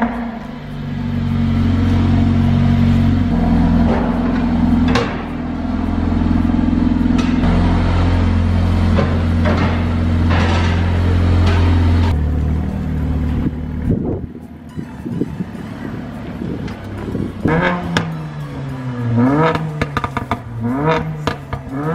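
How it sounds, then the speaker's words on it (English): A car engine idles with a steady low hum, then revs in several rising and falling bursts toward the end, close and fairly loud, with no talking. "So now I'm gonna hear the sound of your car."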